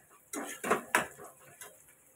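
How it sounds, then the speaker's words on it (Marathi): Green chillies are cut with a knife, making four or five sharp, close clicks and taps on a board, spaced unevenly over a couple of seconds. "मिरच्या कापत आहे मी हिरव्या"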